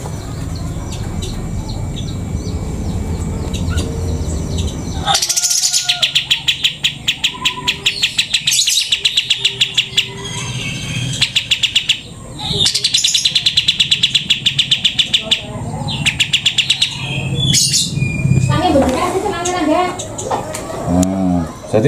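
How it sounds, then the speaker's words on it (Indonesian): Wild birds chirp and tweet in loud repeated bursts of rapid calls, close by, over steady background noise, with people talking between the bursts. "Burungnya burung liar ini."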